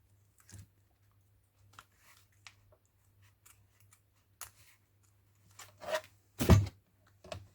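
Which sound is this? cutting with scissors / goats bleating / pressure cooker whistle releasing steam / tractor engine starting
cutting with scissors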